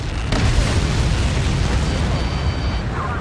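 A missile explodes in an air-combat video game with an airburst-type blast, a loud deep boom that swells at the start and rolls on as a sustained low rumble with no talk.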